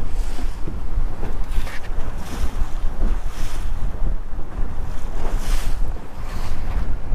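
Storm wind and choppy waves buffet a bass boat in a creek arm of a lake. There is a steady roar of gusting wind over the microphone with repeated splashes of spray, loud and unbroken throughout.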